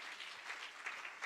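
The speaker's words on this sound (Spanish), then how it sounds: "Un aplauso para ellos también." Church congregation applauding, a dense steady patter of many hands clapping, moderately distant and continuous, with no voices over it.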